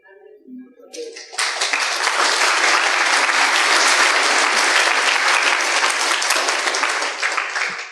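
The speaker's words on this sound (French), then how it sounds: "Là, vous avez applaudi Johnny" A church audience applauds Johnny after his testimony; a brief spoken moment gives way to a sudden burst of loud, sustained clapping from a large crowd that continues evenly to the end.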